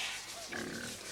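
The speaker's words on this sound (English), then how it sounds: "You like pigs, Inspector?" A pig on an English farm gives a couple of faint, short snuffling grunts at close range against quiet outdoor background.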